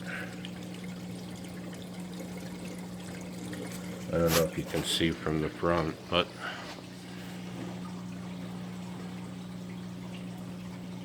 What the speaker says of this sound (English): that's how high the water is running on my weir